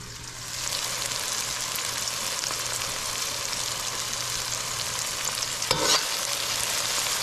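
Cassava and sweet potato frying in a pan, a dense, even hiss of sizzling oil heard up close, with a brief clatter near the end.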